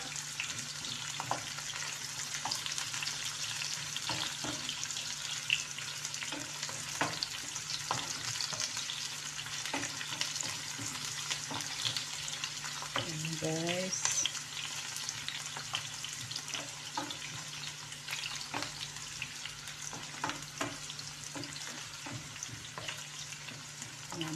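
Ginger and garlic sizzle steadily in a pan of oil as onion goes in, a continuous close hiss broken by occasional scraping stirs, with no voices.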